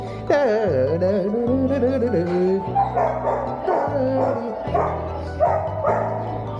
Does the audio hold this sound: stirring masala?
no